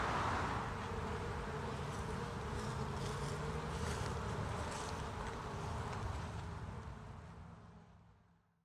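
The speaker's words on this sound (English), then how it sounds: "This one bee, they got stuck." A bee trapped in a nest hole buzzes close and steadily, a continuous droning hum mixed with outdoor wind noise that holds level before fading out at the end.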